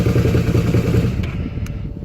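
A 1983 Honda VT250F motorcycle engine idles steadily after a cold start, with a dense, rumbling low chug and clattery mechanical texture that runs throughout and eases slightly toward the end.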